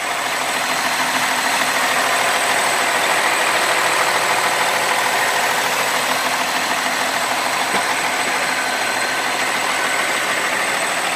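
A 2006 International Paystar 5900 diesel truck engine with dual breathers idles steadily and loudly for the whole stretch, a constant rumbling drone with no voices.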